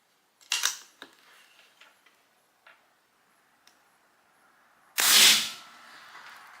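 A single sharp crack from a Pinty .22 caliber PCP air rifle, loud and close, followed by a short decay, with small clicks and handling taps beforehand.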